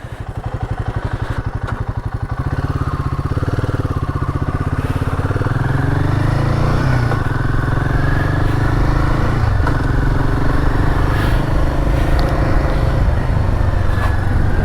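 Royal Enfield Himalayan 452 motorcycle riding on a gravel road: a lumpy near idle builds into a steady, loud engine drone under acceleration, with rising and falling revs and wind noise, no talking.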